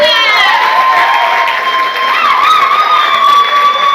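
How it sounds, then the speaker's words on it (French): Crowd at a Francophonie student quiz competition in Cameroon cheering and shouting after a school team is announced, a loud, sustained mass of young voices with whoops rising over steady noise, continuous throughout. "Applaudissez."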